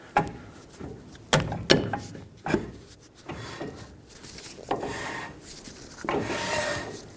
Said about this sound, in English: I'm going to put the rotor on just so I can make sure the parking brake shoes are properly adjusted.